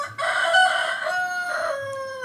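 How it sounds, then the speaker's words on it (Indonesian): A rooster crows close by in a single loud, drawn-out cock-a-doodle-doo call with a rising then falling tone, heard alone without talk. "itu ada suara ayam"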